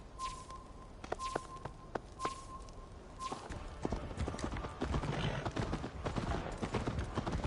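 Horse hooves clip-clopping in Assassin's Creed Valhalla, a steady rhythmic run of sharp near hoof strikes with a faint whinny, growing denser and louder toward the end over game ambience.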